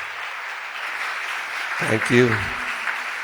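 City council meeting audience in Philadelphia applauding, a moderate wash of clapping that runs throughout while a voice speaks briefly partway through.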